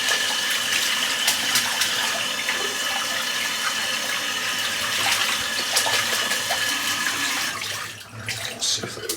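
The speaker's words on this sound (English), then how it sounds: "Generally got to bash it around the bottom of the sink" A dense knotted shaving brush is rinsed under running water in a sink, a steady close hiss of flowing water with faint knocks as the brush is bashed against the basin bottom.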